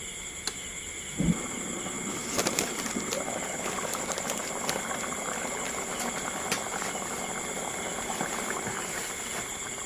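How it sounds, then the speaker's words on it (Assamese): An Assamese pork curry with roselle leaves simmers in a covered pot, giving a soft, steady bubbling hiss throughout, with a few faint clinks and knocks near the start. "আৰু এতিয়া ঢাকনি লগাই ভালদৰে উতলিবলৈ দিম।"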